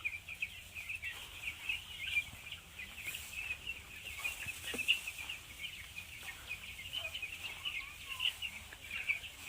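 A flock of farm chickens kept on chopped straw litter clucks continuously, a dense, fairly faint chorus of overlapping calls with occasional nearer bursts.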